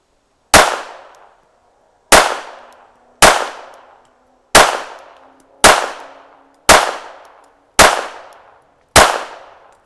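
Seven sharp shots from a World War One French contract Ruby pistol fired at an outdoor target range, each crack loud and close with a short decaying tail, spaced roughly a second and a half apart.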